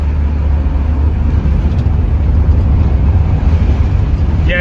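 A 1973 Ford Maverick with front end alignment issues drives along the road, its engine and tire rumble loud, steady and close for the whole stretch.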